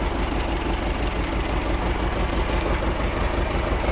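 A T-25 tractor engine runs steadily with a dense low rumble and clatter, close and constant throughout, no voices over it.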